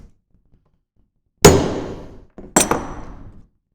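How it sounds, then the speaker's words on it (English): Two sharp metallic hammer taps on a guitar fret about a second apart, each ringing briefly before fading, in an otherwise quiet room. "That side needs one more hammer."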